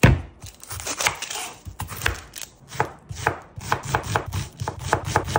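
A knife chops a red onion on a cutting board in quick, irregular bursts of sharp, close taps, coming faster toward the end, with no talk over them.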